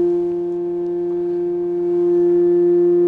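A Rijke tube toy model oscillates at 175 hertz, producing a steady, pure humming tone with clear harmonics that swells slightly in loudness, with no other sound.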